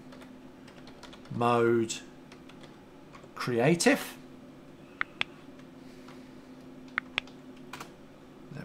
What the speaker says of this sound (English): So I can type in chat / game